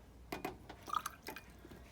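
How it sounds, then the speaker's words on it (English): About 25 ml of hot water is poured into a lab beaker, heard as a quiet, brief sequence of small splashes and drips close by. "we are going to pour it into the beaker."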